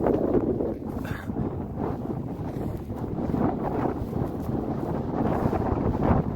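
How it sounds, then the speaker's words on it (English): Strong wind in the Snowies mountains, behind a rock, buffets the microphone in constant gusty roars, loud and rough with no talking. "still real windy behind this rock at the moment"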